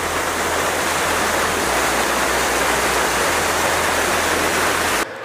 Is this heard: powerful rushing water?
yes